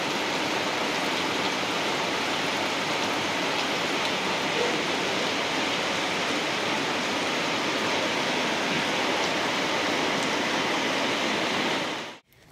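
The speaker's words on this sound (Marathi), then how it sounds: "पाऊस पडतोय" Steady rain falls in a Konkan village at Kandalgaon, Malvan, a dense, even hiss that holds without pause and cuts off abruptly at the very end.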